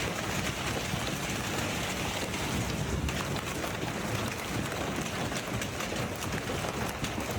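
Dense hail storm in Ohio pelting down onto the ground and surfaces, a continuous loud roar of rapid impacts like heavy rain lasting throughout, with no voices.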